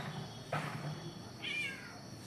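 A black bird mimics a cat's meow, giving two faint, drawn-out meow-like calls over quiet background noise.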